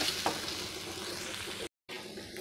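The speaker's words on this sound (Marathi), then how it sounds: "टमाटा पण परतून घेऊया।" Tomatoes sauté in a pan for a corn curry, giving a steady, close sizzling hiss broken by a brief silent gap before the frying noise resumes.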